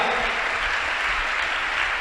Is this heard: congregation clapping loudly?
yes